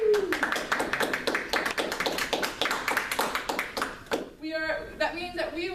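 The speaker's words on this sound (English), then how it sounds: "Let's give a round of applause to our 2015 graduates" A small group claps for 2015 graduates in a casual podcast setting, about four seconds of quick, sharp, close handclaps that stop abruptly, followed by a short cheer.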